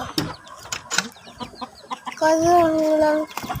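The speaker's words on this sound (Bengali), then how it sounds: "আমরা মুরগিগুলো দেখাবো।" Hens cluck and squawk in short bursts, with a longer drawn-out call near the end, close by and fairly loud.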